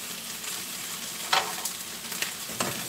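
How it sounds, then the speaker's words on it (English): Liver sizzles and browns in a hot pan, a steady crackling fry with a few sharper pops, close and alone without talk. "So just brown your liver off."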